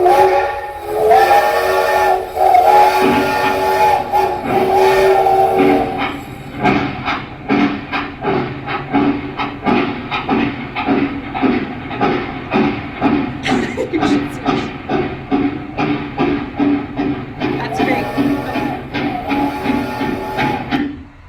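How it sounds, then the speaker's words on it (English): A steam train whistle sounds long and loud, then gives way to rhythmic chuffing and clattering of a moving train, with whistle tones returning near the end. "I have a sound of a train whistle that I want you to listen to"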